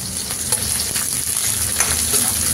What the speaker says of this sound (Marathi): मिरची चरचरीत भाजून घेते